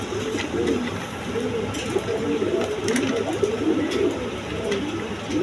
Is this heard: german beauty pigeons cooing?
yes